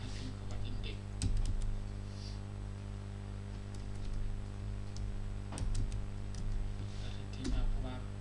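Close typing on a computer keyboard while building a web page, a few scattered clusters of light key clicks under a steady electrical hum.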